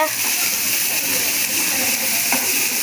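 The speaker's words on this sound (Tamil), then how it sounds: "நல்லா கோல்டன் கலர் வர வரைக்கும் ஃப்ரை பண்ணிக்கோங்க" Something frying in a pan until golden brown, a steady close crackling sizzle that holds evenly throughout with a few faint clinks, no break in the hiss.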